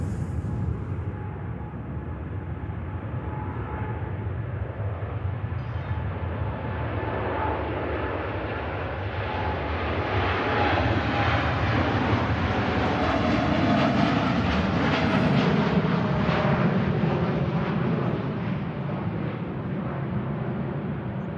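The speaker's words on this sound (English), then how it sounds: "Of course, the Dreamliner. Enjoy this." Boeing 787 Dreamliner jet airliner departing for Punta Cana from Manchester Airport, a broad steady engine roar that swells louder through the middle and stays heavy to the end, heard from the airfield side with no talk.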